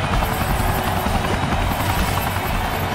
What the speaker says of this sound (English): Take me to the chopper!